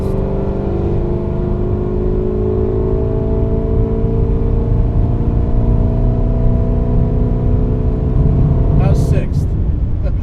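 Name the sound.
modified 550 WHP Camaro ZL1 accelerating in sixth gear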